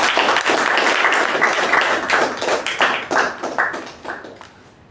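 A club meeting audience gives a round of applause welcoming a speaker to the stage: loud, dense clapping that holds for a few seconds, then thins into scattered individual claps and fades.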